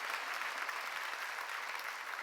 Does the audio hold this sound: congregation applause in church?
yes